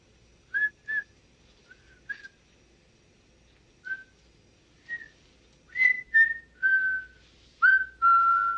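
A kid whistles in a short tuneful pattern, clean high notes coming in brief separate bursts and then longer held tones, close and clear over near silence.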